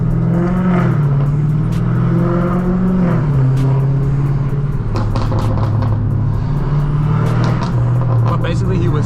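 A Dodge Hellcat Redeye engine rumbles loud and steady from inside the car, its low drone rising and falling with throttle while a person talks over it throughout.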